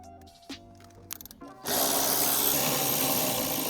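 A power tool spins out 12 mm seat bolts in a Toyota GR86, starting with a few light clicks and taps before a loud, close, continuous whirring rattle takes over for the remaining seconds.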